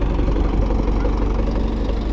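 A YUMZ-6 tractor engine idles steadily at close range with a low, even diesel rumble and no change in pace.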